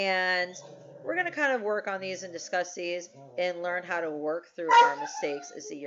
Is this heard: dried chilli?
no